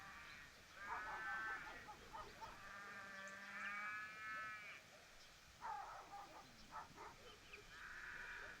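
Sheep bleat repeatedly in long, wavering cries, some overlapping, with a faint low hum underneath and no talking.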